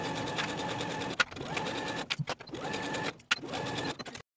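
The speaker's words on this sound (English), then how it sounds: "Now we can sew both of our side seams with a 5/8 inch seam allowance" A sewing machine stitches the side seams of a dolman dress in close, steady whirring bursts, pausing briefly between runs and stopping cleanly at the end.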